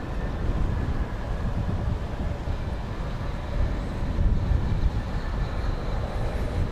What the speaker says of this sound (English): That is American 2459 from San Diego, an Airbus